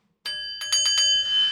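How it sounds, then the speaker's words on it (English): A small bell is struck several times in quick succession, each ring a bright metallic ding with a sustained tone that hangs after the last strike, close and clear after silence. "I got to ring the bell"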